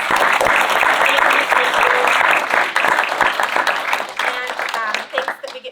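Loud, dense audience applause for a woman at an event, many hands clapping together at close range that gradually thins toward the end, with voices mixed into the crowd noise.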